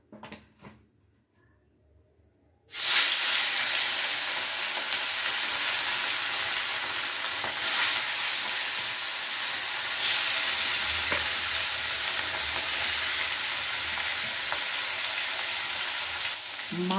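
Fish pieces rubbed with salt, turmeric and lemon juice hit hot oil in a pan for Bengali macher jhol, bursting from near-quiet into a loud, continuous close sizzle that crackles and hisses steadily with small surges.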